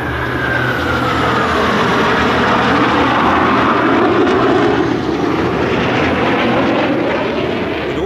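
An FA-50 jet flying at an airshow at Langkawi roars steadily and loudly, a broad continuous engine rush with a faint falling whine as it passes, no talking.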